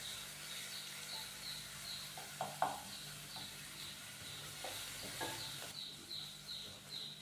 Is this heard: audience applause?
no